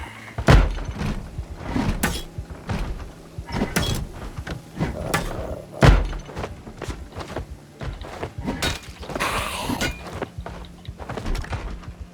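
Door sounds in the zombie survival game Project Zomboid at a cracked, deteriorating house: a series of sharp knocks, thuds and clatters repeating irregularly over a steady background rumble, fairly loud and close.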